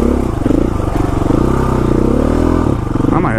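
A dual sport motorcycle engine drones steadily and close as the bike crawls over slick rocks on Pine Ridge Road in West Virginia, with a continuous low rumble and faint clatter throughout.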